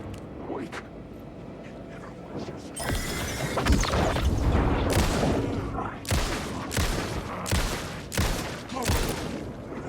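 Gunfire in the video game Alan Wake II: a rapid burst of loud shots and crashing impacts, several sharp cracks in quick succession over a dark ambient bed.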